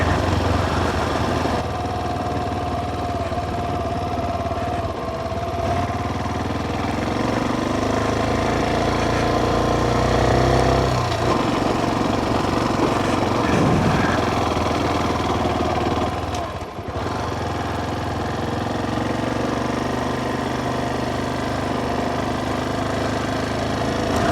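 A Honda XR 250 motorcycle engine running steadily while being ridden slowly over a thin layer of sand, a continuous mid-pitched drone with slight dips in revs, loud and close.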